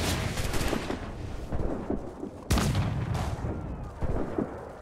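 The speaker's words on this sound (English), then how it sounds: "gotta destroy some gunpowder reserves" Gunpowder reserves blow up in Assassin's Creed IV: Black Flag, heard as several heavy booming explosions, with one big close blast midway and rumbling aftershocks between them.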